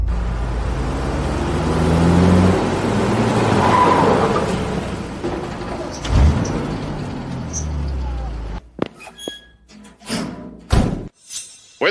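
An old junk car drives loudly with a rumbling engine and tires skidding, then stops abruptly, followed by thumps and scattered clatter.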